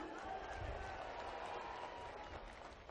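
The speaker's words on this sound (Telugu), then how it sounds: "మళ్ళొకసారి గట్టిగా చప్పట్లు కొట్టి" An audience at a Telugu political speech claps loudly in a sustained, dense burst of applause lasting the whole moment, with crowd murmur mixed in.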